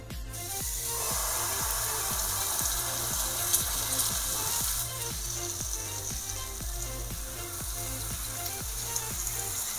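Oil and butter sizzling in a crepe pan, a broad, even hiss that holds steady for the whole stretch over a faint rhythmic background thump, no voices.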